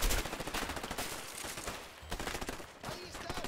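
Rapid gunfire from the video game A Way Out, bursts of fast repeated shots like a machine gun that keep going throughout, loud and close.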